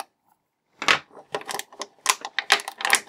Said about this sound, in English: So we're going to slice that tape off there real quick to get to them.